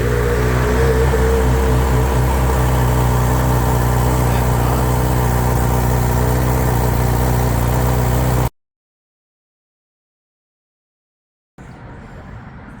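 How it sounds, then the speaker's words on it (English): A 2023 Honda CB1000R Black Edition motorcycle engine runs steadily at idle with a low, throbbing hum, then cuts to silence for a few seconds before a quieter rumble returns. "first thing we're going to do is turn on the bike and get her started up, warm her up."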